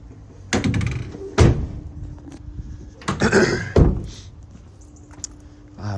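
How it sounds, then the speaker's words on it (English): Passenger-side sliding door of a Ford Transit Custom van, ex-Sky TV, being worked: a couple of heavy thunks and rolling slides, then another pair of loud clunks, close by with quiet pauses between. "Passenger side sliding door."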